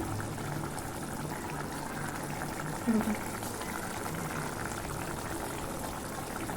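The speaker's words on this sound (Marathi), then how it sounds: "आता बघा एकदम सणसणीत उकळी येते" Konkani-style mackerel fish curry comes to a rolling boil in a pot over low gas, bubbling steadily and softly throughout, with a brief faint voice partway through.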